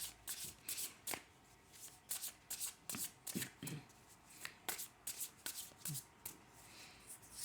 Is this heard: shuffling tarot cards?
yes